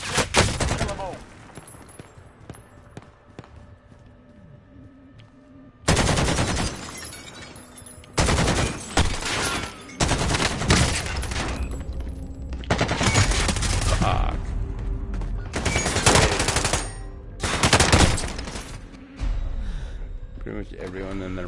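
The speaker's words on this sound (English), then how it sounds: "Everyone and their mom was shooting at me." Many players firing at once in a video game shooter, dense bursts of rapid gunfire alternating with quieter gaps, loud and close, with a voice talking in places.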